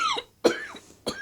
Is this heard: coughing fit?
yes